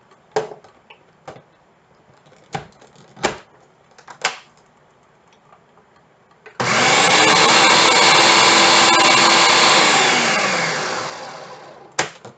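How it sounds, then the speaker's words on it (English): A food processor whirs loudly for roughly five seconds while mixing quiche ingredients, a steady motor drone starting abruptly and tapering off, preceded and followed by sharp clacks of the lid and container. "Put that into the food processor."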